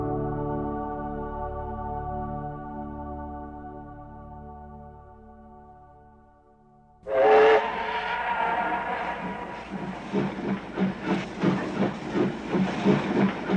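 A steam train whistle sounds a long steady tone, then the train starts up with a burst of hissing steam and rhythmic chuffing that grows louder and more regular.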